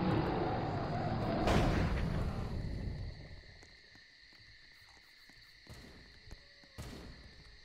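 A bomb goes off in the game Transfur Infection: a loud, broad rumbling blast fills the first three seconds and fades, leaving a steady insect-like chirping tone with a couple of sharper bangs later on.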